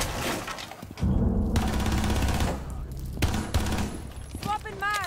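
Rapid gunfire in Rainbow Six Siege comes in dense fusillades of machine-gun bursts, loud and close, mixed with shattering breakage, brief pauses between volleys and a few ringing electronic tones near the end.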